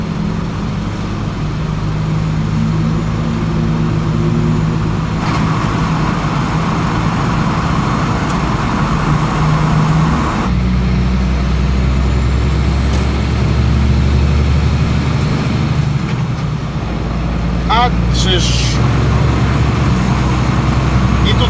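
Traffic stands jammed inside a tunnel, a loud, continuous low rumble of idling cars and trucks that fills the enclosed space, with occasional shifts as vehicles creep along.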